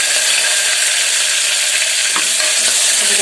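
Chopped green chillies and crushed ginger-garlic paste sizzle in hot oil over a low flame, a steady close frying crackle with a few stirring scrapes and no voices.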